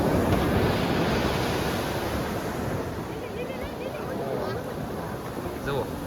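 Sea waves wash around a fishing boat out at sea during prawn fishing, a steady loud rushing surf mixed with wind buffeting the microphone and no clear breaks.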